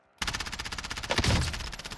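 Rapid automatic gunfire in a battle royale video game, a sustained rattling burst of evenly spaced shots starting abruptly, loud and close, with a heavier impact midway.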